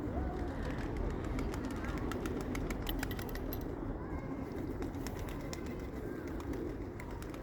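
Soft cooing of pigeons mixed into a busy outdoor wash of noise in Chernivtsi, Ukraine, near the philharmonic hall, with faint chirps scattered throughout at a distance.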